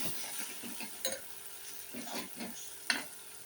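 A spoon stirring Kashmiri chili and coriander powder in a hot pan, soft rhythmic scraping over a faint sizzle with occasional sharp metal taps, close and fairly quiet, no talk.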